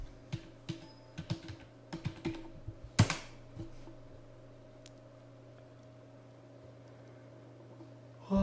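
Commands are typed on a computer keyboard on a Windows PC: a quick run of clicky keystrokes, one sharper key strike, then a quiet stretch with a faint steady hum.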